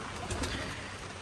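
Soft cooing of a single male green pigeon, a low murmuring call repeated a couple of times over steady background noise of rain, fairly faint.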